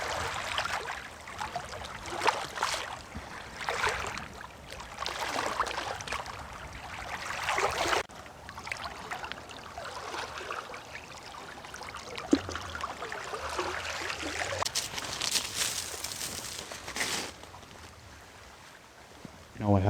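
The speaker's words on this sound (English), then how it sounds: "The sound of the waves and the birds." Ocean waves washing onto an island shore in repeated surges of broad, soft rushing, fairly faint and continuous, with occasional louder swells.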